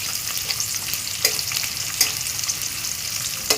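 Chopped onions fry in hot oil with garam masala and garlic, giving a steady close sizzle broken by a few sharper crackles and stirring scrapes near 1.3, 2 and 3.6 seconds; no one speaks.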